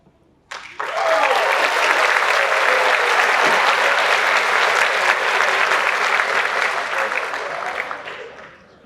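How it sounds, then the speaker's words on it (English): After a brief sharp onset, a large graduation audience at the ITHS Class of 2023 ceremony gives loud, sustained applause that fills the hall for several seconds before tapering off at the end. "So let's give it up again for Ebony Young."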